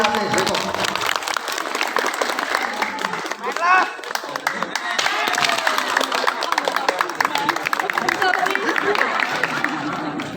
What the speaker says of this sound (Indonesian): Tepuk tangan untuk pemirsa PAT Celengkong.